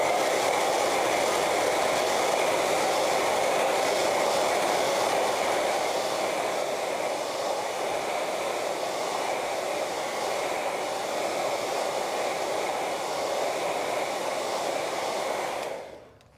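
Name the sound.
hair dryer drying a painting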